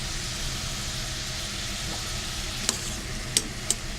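Vegetables roast in a pot for squash and curry soup, giving a soft continuous sizzle with a few sharp utensil clicks near the end, close and unaccompanied by talk.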